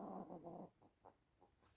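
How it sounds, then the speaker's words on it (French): An 11-year-old small dog making soft little whimpering, growling noises: a close low grumble followed by several short faint whines spaced apart. "C'est mon petit chien qui fait des petits bruits."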